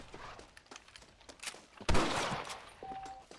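A rifle fires at varmints in the video game Red Dead Redemption: a run of sharp shots, then one loud close blast that rings out and fades, with no talking.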